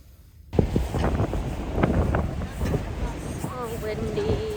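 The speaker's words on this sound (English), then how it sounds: "So windy these days." Gusty wind outdoors in New York City, buffeting the microphone with a rough, rushing roar that bursts in after a brief quiet start and keeps surging unevenly, with a faint tonal whine near the end.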